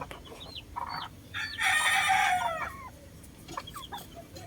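A large fighting gamecock crows nearby while chickens cluck intermittently around it, with a quiet outdoor background.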